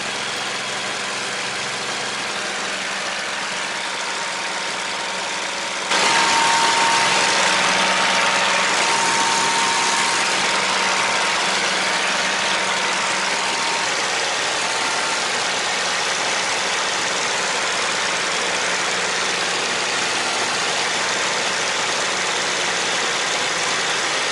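A P-40N Kittyhawk piston aircraft engine runs steadily, then surges louder into a sustained, even roar that holds for the rest of the stretch.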